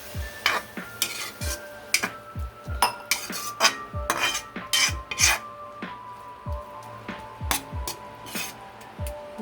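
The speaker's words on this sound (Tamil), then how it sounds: "லைட்டாக கேரட்டோட கலர் சேஞ்ச் ஆயிடுச்சு இப்போ இதில் பால் சேர்த்துக்கலாம்" A spoon stirs grated carrot halwa in a metal pan with milk, making repeated sharp clinks and scrapes in an uneven rhythm, close and fairly loud.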